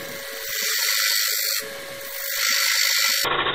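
Skew chisel cutting a wooden bowl spinning on a lathe, giving bursts of high, whining scraping cuts that start and stop in short passes with brief gaps between, loud and close.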